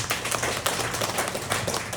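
An audience at a neighborhood residents' meeting gives a round of applause, dense steady clapping from many hands filling the room without pause.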